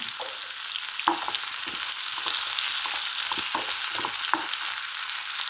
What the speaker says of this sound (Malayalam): ആ സമയത്തൊക്കെ നമുക്ക് ജീരകവും പെരുംജീരകം ഇട്ട് കൊടുക്കാം.